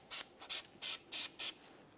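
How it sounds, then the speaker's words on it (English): Short bursts of copper never seize aerosol sprayed onto the splined area of a wheel bearing while replacing a 2005-2010 Dodge Dakota driver side axle stub shaft: five quick, close hisses of uneven length separated by brief pauses. "Now we can move along to using some copper never seize inside of the splined area of the bearing."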